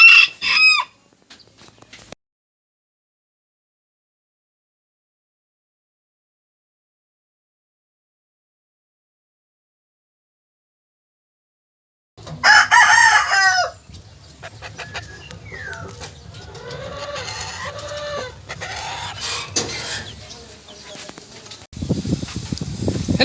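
Backyard chickens, Sebright bantams and chicks, in a small home poultry pen: clucks and a rooster's crow at the start, a long silence, then busy close clucking, cheeping and squawking with a low background hum.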